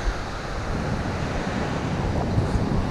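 Ocean surf at Alki Beach in Seattle washes in a continuous, even roar, with wind buffeting the microphone and no voices.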